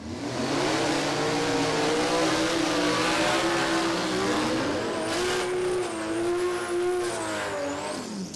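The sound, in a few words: drag racing car engine revving, boosted Barra-engined Commodore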